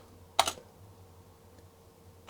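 A ZX Spectrum computer keyboard being tested, with a quick cluster of faint key taps followed by a couple of isolated soft presses in a quiet room.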